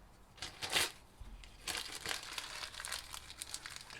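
A piece of magazine paper is crumpled by hand for spray paint art, crackling in a sharp burst at the start and then in a steady run of soft crinkles, close and fairly quiet.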